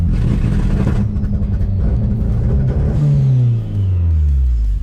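A turbocharged VW Gol engine revs hard and is held against a two-step launch limiter while the car sits stationary, giving a loud, steady, crackling rumble. Partway through, the pitch sweeps and falls as the revs drop.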